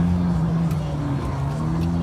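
A Bugatti supercar rumbles close by with a low, steady engine drone at a car meet, heard from a riding motorcycle with wind noise, while people talk over it.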